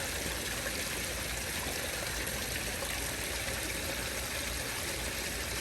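Water from a garden hose runs steadily into a koi pond as it is refilled, a continuous broadband rushing and trickling that holds even and unbroken throughout, with no voices.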